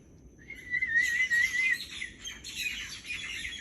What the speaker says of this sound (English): the Myna birds come up and sit in the trees